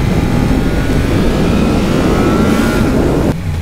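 A 2018 Yamaha MT-10 crossplane motorcycle engine revs loudly and steadily, a dense mechanical roar held close up before cutting off near the end.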